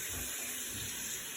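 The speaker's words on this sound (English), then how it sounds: "let's begin by washing our hands." Warm tap water runs steadily into a sink for hand washing, a continuous close hiss and splash with no breaks.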